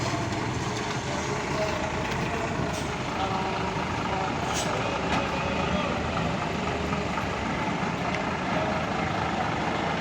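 A Sumber Selamat bus idles and maneuvers at the Purabaya bus terminal, a steady low diesel rumble amid the terminal's ambient noise, with faint hisses and occasional voices in the background.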